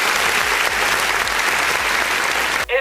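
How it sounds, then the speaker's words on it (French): Audience applauding during a talk, a loud, dense wash of clapping from a crowd that continues without pause and cuts off abruptly just before the end. "on va applaudir"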